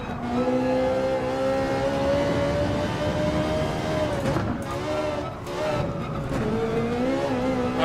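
A Ferrari 458 Gr.3 race car in Gran Turismo 7 holds a steady, loud engine drone with shifting pitch through corners at the Nürburgring, with brief tire scrubs midway and the engine continuing throughout.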